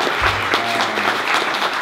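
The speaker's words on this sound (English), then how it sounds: "Yeah, let's clap for them." Wedding guests at an autumn wedding break into loud, close applause for the bride's grandparents, a thick continuous patter of many hands with a faint voice or two mixed in.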